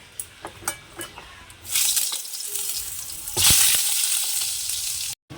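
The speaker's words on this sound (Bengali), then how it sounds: "এদিকে তো পটলটা ভাজা হচ্ছে" Sliced pointed gourd frying in a pan: a few light clinks at first, then a sudden loud, continuous sizzle that swells partway through before cutting off.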